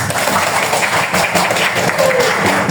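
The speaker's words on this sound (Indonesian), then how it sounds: "Oke, terima kasih tepuk tangan" Classroom applause after a student reads a poem aloud, a short burst of steady clapping from many hands, loud and close with little else over it.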